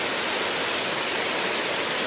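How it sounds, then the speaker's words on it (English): Floodwater rushes down the side of a road and underneath, a dense, steady roaring wash of water heard close and loud with no voices. "And there's water rushing down the side, underneath."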